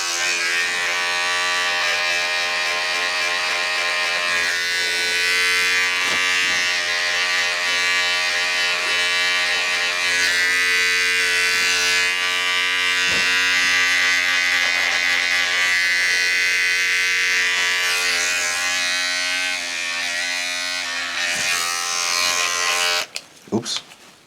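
Electric hair clippers fitted with a number 2 guard buzz steadily and close up through a drop fade self cut, a constant electric hum running almost unbroken before cutting out at the very end.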